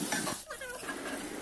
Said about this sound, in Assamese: তাৰপাছত গোটেইখিনি লৰাই লৈ ভাজি থাকিব।